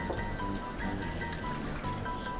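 Measured plain water poured into a blender jar for a suki dipping sauce, a brief, close, continuous gurgling stream with no voices.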